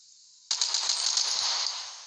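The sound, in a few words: Uzi submachine gun firing in a video game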